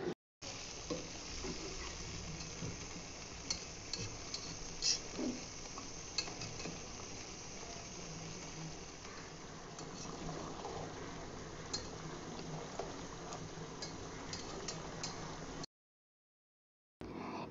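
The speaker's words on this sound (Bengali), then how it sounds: "এবার সবকিছু ভালোভাবে নেড়ে চেড়ে দিব।" Chicken roast simmers in milk in a pan while a spoon stirs it, making a quiet ongoing bubble and sizzle with scattered scrapes and light knocks of utensil on metal, close by, ending in a brief gap of silence.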